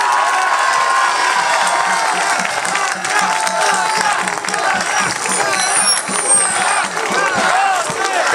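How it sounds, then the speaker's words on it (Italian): A large crowd at a political rally in Bassano del Grappa, Italy, claps and cheers for Luca Zaia, rhythmic clapping mixed with shouts and hubbub, loud and sustained throughout. "Quindi un enorme applauso a Luca Zaia!"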